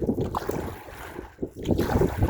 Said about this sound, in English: Oh, we got a little bit of a headwind coming up.